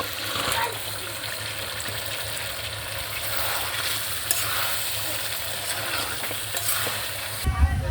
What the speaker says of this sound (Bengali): মশলাটা কষে নিয়েছি ভালো করে কত সুন্দর তেল ছেড়ে দিয়েছে ভেজে রাখা চিকেনটা দিয়ে দেব